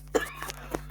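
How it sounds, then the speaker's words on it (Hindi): A few quick, muffled coughs in a row, close and fairly soft, with a faint steady hum underneath. "बहुत खांसी हो रखी है"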